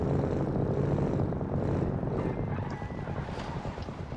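A very big car with a rough, poorly built engine roars in BeamNG.drive, a loud, steady droning rumble that swells slightly and stays continuous without any talk.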